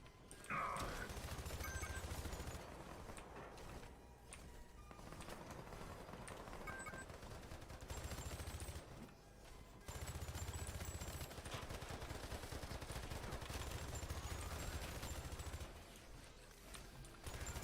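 Video game gunfire crackles in bursts across a continuous, busy game soundscape, with dense repeated shots that pause briefly around the middle and resume, fairly loud and steady throughout.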